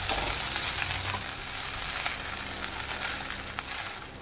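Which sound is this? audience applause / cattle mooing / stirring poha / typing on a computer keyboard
stirring poha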